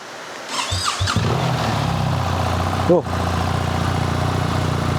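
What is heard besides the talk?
1300 motorcycle engine running and idling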